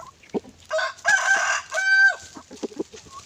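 A native rooster crows once nearby, a clear, loud cock-a-doodle-doo with a rising and falling tone, followed by soft clucks and farmyard rustling.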